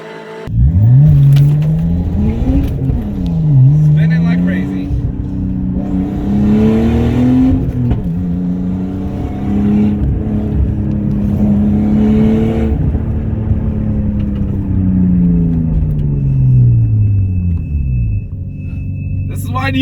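A simulated car engine in a budget sim racing game, with a Honda in traffic nearby, revs loudly and continuously, its pitch climbing and dropping through gear changes for the whole stretch.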